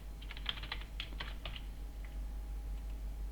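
Quick bursts of keystrokes on a computer keyboard while a password is entered, a close, light clatter for about a second and a half, then a few isolated taps over a steady low hum.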